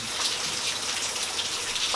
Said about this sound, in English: it's a steady rain